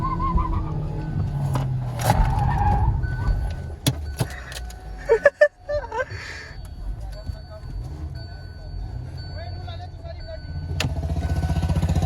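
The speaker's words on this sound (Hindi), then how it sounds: "ले भाई अब बब्बू वाली गाड़ी जीत गई भाई की" Cars in a drag race at Bahadurgarh, Haryana, rev and roar in rising and falling bursts, with sharp clicks and knocks and voices from the gathered crowd talking throughout.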